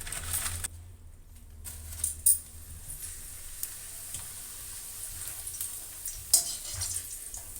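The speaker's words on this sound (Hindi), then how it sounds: "और अब मैं 2-4 पापड़ भी तल लेती हूँ" Papad frying in hot oil in a home kitchen, a steady soft sizzle and crackle with a few brief clinks, heard alone at moderate closeness.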